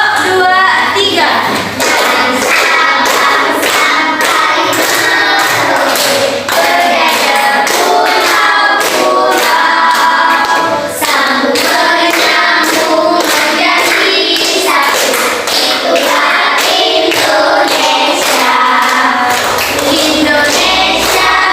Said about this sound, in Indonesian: Gimana kalau kita nyanyi sekali lagi dengan tepuk tangan?